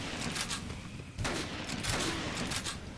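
Rapid gunfire from a weapon in the video game Dead Rising, several quick bursts of shots close and loud, with game noise and no talk over it.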